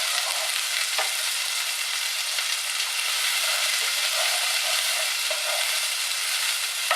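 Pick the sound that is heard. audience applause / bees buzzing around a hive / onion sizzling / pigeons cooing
onion sizzling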